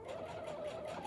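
A sewing machine running a zigzag satin stitch gives a quiet, steady whir with a fast, even pulse. The brief burst sounds close and has no voices.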